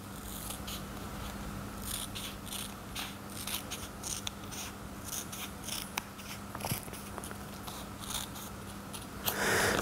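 Repeated crisp snips of sharp scissors cutting through kinesiology tape, an irregular series of close, quiet clicks and slices over a faint hum.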